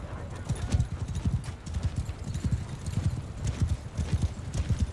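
Horses galloping in a battle in the video game Mount and Blade Bannerlord, a dense, continuous patter of hoofbeats at moderate distance with no talking.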